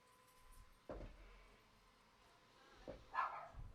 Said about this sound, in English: The neighbor's dog is freaking out